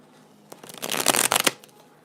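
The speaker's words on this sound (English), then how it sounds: "Let me do a quick shuffle." A twin flame tarot deck shuffled by hand in one quick burst of riffling, papery card flutter, fairly close and loud, with no talking.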